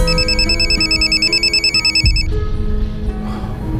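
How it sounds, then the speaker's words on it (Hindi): A telephone rings in quick repeated bursts for about two seconds over low background music in a Pakistani TV drama, then falls silent. "क्या हुआ, फोन क्यों नहीं उठा रही?"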